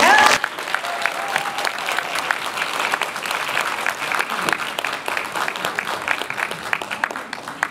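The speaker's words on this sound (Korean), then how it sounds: "여러분의 큰 박수로 맞이해 주시기 바랍니다" Sustained applause from a sizable audience welcoming a speaker at a ceremony, steady clapping throughout with a few louder claps standing out near the start.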